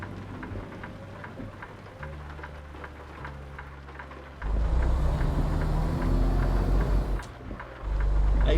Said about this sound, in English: I very much like the sound of rain on the body of the truck.